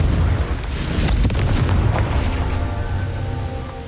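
Confringo explosive spell in Hogwarts Legacy detonating with a loud booming burst and a crackling blast that tails off into rumbling, close and heavy, with brief spoken spell calls.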